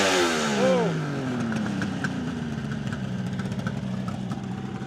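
A 1972 Kawasaki H2 750 Mach IV two-stroke triple with an open air filter drops from a quick rev into a steady, rattly idle, close and fairly loud.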